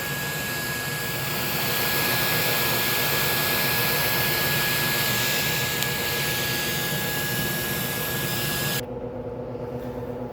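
A floor scrubber's vacuum motor runs with a loud, steady whine and roar that stops abruptly near the end, leaving a quieter hum.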